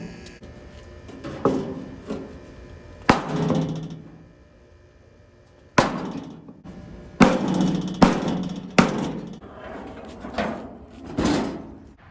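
Metal dents being knocked out of the sheet-metal body of a 1985 Ford 1910 tractor, with a series of sharp, loud impacts at irregular intervals and clattery ringing in between, close and with no talking.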